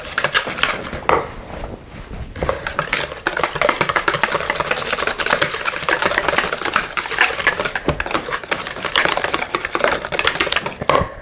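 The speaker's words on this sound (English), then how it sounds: "So I'm going to start whisking." Chipotle ranch dressing whisked briskly in a bowl, a fast continuous clatter of metal whisk against the sides, close and steady with a short pause near the start.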